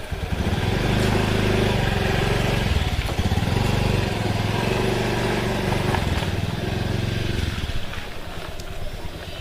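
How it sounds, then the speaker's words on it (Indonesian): A motorcycle engine runs steadily and loudly throughout, a continuous close drone with slight surges and dips in pitch, no talk over it. "Itu kayak motor si Lilis dah ya."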